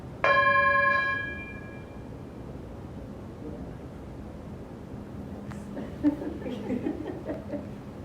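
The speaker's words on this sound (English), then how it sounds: "Let's ring the bell for Angel" A single bell is struck once at a yoga seminar and rings out clearly, its tone fading over about two seconds. Soft shuffling and brief voices follow later.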